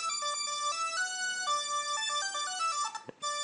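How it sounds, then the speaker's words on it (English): A bright, squeaky synth lead plays a melodic line, gliding between notes with portamento. The tone is sustained and harmonically rich, and a brief dip and swoop near the end interrupts it. No voices are heard. "Now it's got that really squeakiness as it slides between notes."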